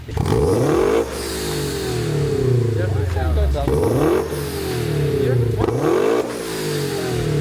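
A Toyota GR86 fitted with a new catback exhaust revs up close and loud, rising and falling in about three rumbly sweeps with a deep, throaty tone.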